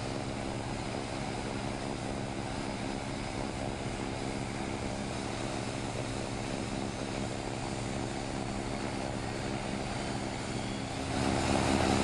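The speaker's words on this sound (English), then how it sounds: "Starting engine 1." Airliner engine one spools up in a flight simulator game, a loud, steady droning whine with layered tonal hum that holds throughout and swells slightly louder near the end.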